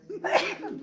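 A single short sneeze, fairly quiet and close, with a quick breathy burst and no talking.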